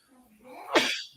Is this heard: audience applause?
no